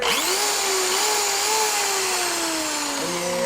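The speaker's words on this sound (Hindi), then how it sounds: "हमने एक ड्रिल मशीन लिया है, इसको प्लग इन करेंगे और यहाँ से पावर ऑन करेंगे" An electric drill runs continuously off a homemade extension lead, a loud, steady motor whine that rises quickly at switch-on and then drifts slightly lower in pitch, heard alone and up close.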